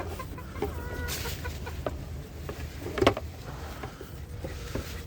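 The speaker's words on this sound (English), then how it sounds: "I'm digging eggs out from under a hen." Hen clucking close by in a nest box while eggs are dug out from under her, soft repeated clucks and low grumbling with light scratching and shuffling, one sharper squawk partway through.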